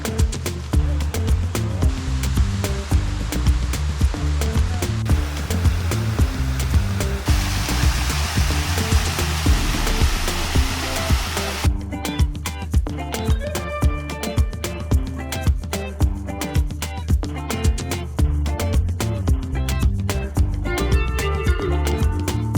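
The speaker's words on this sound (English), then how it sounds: "Let's go take a look at this waterfall." Devil's Hills Falls, a waterfall in Cape Breton, gives a steady broadband rushing roar that runs unbroken throughout, with tonal layers sitting over the water noise.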